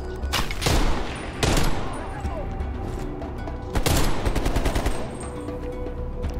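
Rapid automatic MP5 fire in the video game Black Ops Cold War: several close, loud bursts separated by brief pauses, over continuous game background noise.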